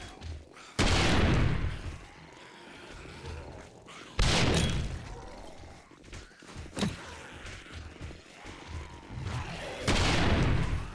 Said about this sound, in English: Let's just give these guys a little bit of explosions here.